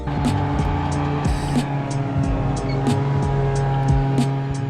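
A 340 snowmobile engine powering a jet jon boat runs continuously up close, droning loudly and steadily with small shifts in revs and a few sharp clicks over the top.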